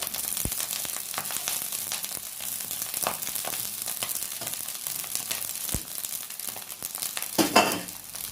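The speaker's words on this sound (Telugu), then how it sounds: "ఈ రైస్ని మనం ఇప్పుడు మన ఫ్రైడ్ రైస్లో వేసుకుందామండి." Cooked, cooled rice frying on high flame in a pan with chicken fried rice ingredients, giving a steady broadband sizzle with scraping and stirring clatter throughout and a louder burst of stirring near the end, with no talking.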